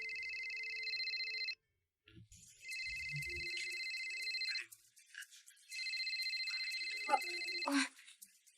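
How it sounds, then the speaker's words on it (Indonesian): Mobile phone ringtone sounding for an incoming call, with two long bursts of steady electronic tones separated by a short gap in which faint voices are heard. "Kayaknya ada yang telepon."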